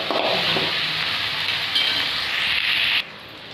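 Spices for a chicken curry frying in a pan: a steady, loud sizzle with occasional stirring and scraping that runs alone for about three seconds, then drops off sharply.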